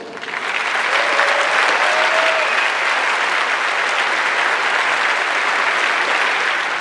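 A large audience at an international mining convention applauds national environmental award winners, with loud, dense, continuous clapping that fills the room throughout.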